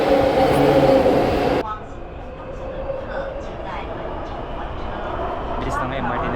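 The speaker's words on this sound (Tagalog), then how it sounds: "Ito na agad yung tren." A Taipei MRT Green Line metro train arrives at the station, a loud whine that suddenly drops into a steady low roar of wheels and motion.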